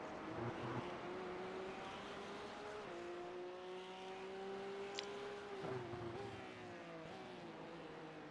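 Porsche Cup race cars run nose to tail at the Nurburgring, a steady engine drone with harmonics that rise and dip as the cars lift and accelerate, close and continuous throughout.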